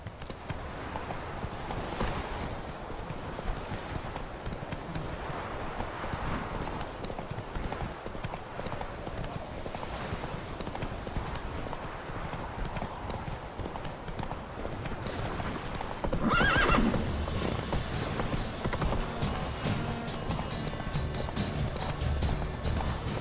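The horse Roach gallops in The Witcher 3, a fast, continuous clip-clop of hooves that stays loud and steady throughout, with a brief swell of other game sound partway through.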